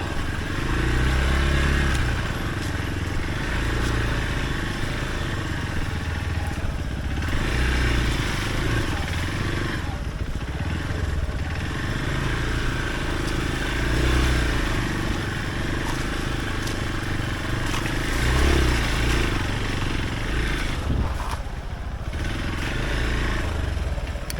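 A motorcycle rides off-road on a rough trail, its engine droning steadily close by with clatter and bumps, while a person talks over it at times.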